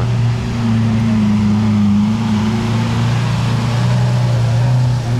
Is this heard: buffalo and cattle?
no